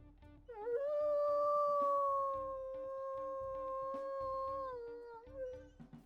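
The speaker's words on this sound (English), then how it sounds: "Let's go ahead and listen to her howls though." A wolf NPC howling in the video game WolfQuest, a single long, high-pitched sustained howl that rises, holds steady and then falls away, heard clearly and alone over a quiet game background.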